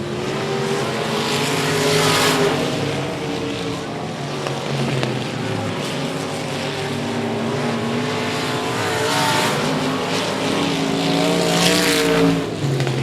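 Race cars lapping the quarter-mile high-banked oval at 105 Speedway during a regular race program, a steady, dense engine roar with rising and fading passes throughout, mixed with crowd and wind noise.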